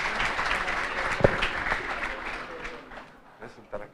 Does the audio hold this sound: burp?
no